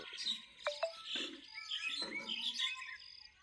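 Small birds chirp and tweet in quick bright bursts at a daily rice-feeding spot, several calls overlapping, mostly clear with little talk.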